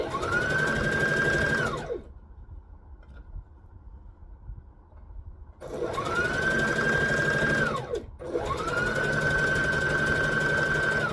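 Sewing machine stitching a curved neckline, humming in close steady runs that wind down, a quiet pause, then two more bursts of stitching.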